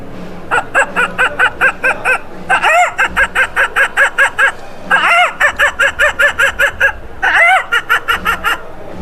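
A voice imitates a hen clucking after laying an egg, a rapid run of sharp, rhythmic clucks repeated in several bursts with brief pauses between, loud and close.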